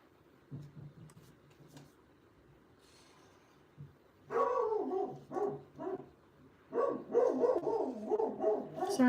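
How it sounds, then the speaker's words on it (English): Dog barking indoors in a home, a burst of several sharp barks followed by a longer run of repeated barks, moderately near, with quieter rustling before. "Sorry about my dog barking."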